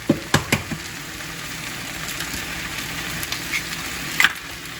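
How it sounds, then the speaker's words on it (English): Eggs cracked into melted butter in a pan: a few sharp taps and cracks at the start, then a steady close sizzle of frying with a brief clink near the end, and no talking. "let that butter melt as you crack these eggs on top of it"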